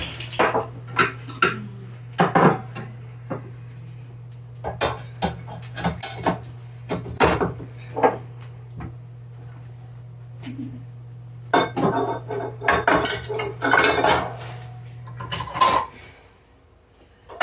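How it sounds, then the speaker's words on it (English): A mixing bowl and other kitchen dishes clink, clatter and knock as they are handled and dried with a towel during cleanup. Sharp irregular impacts sound close by over a steady low appliance hum, with no speech. "Grab a clean towel so I can dry this bowl off and get my beaters put back on here."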